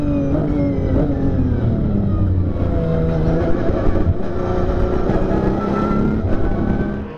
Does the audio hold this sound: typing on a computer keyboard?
no